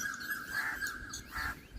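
A bulbul gives a few short, clear chirping calls, bright and fairly close, with no talk over them.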